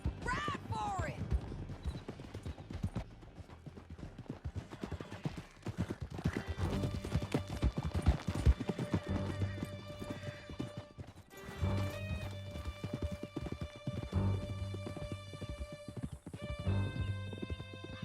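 Horses galloping in Red Dead Redemption 2, with steady rapid hoofbeats continuing throughout, a whinny near the start, and riders talking over the thundering clip-clop.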